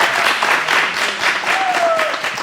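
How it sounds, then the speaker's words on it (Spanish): A studio audience at a talk show applauds a guest, a steady wash of clapping with a faint whistle-like tone rising over it. "Un aplauso para Emiliano."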